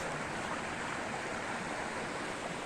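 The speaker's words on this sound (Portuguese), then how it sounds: "Eu gosto de vir aqui nessa aguinha aqui pra mim ficar escutando o barulho da água." A small river swollen after a night of rain rushes steadily over stones in a wooded spot, a dense continuous roar of flowing water heard up close with no talking.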